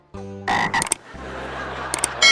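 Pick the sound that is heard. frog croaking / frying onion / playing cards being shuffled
frog croaking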